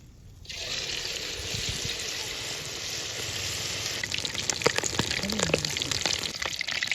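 Chicken leg pakoda, mint-marinated, dropped into hot oil in an outdoor village kitchen, bursting into a loud, steady sizzle and bubbling that holds for several seconds, with a few faint clinks near the end.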